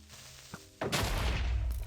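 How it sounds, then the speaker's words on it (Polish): A Creeper explodes in Minecraft 1.18: after a few faint game sounds, a sudden loud boom bursts in and rumbles on heavily for about a second, close and dominating. "Creeper wybuch."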